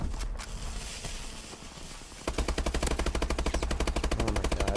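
Rapid automatic gunfire from a first-person shooter video game, starting suddenly after a quieter stretch and running as a steady, loud string of evenly spaced shots.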